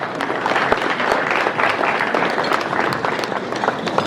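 An audience at a formal gathering in Abuja keeps up a dense, steady wash of applause, loud and close, with crowd noise mixed in.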